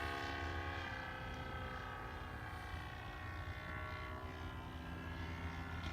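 Aircraft engine held at throttle on what appears to be a small propeller plane, a steady, loud, continuous drone with harmonic tones that stays constant throughout, with no voices.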